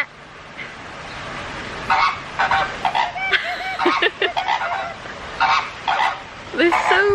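Large heron-like birds on a holiday in Spain give loud goose-like honks, repeated in irregular bursts near the listener, over faint background chatter.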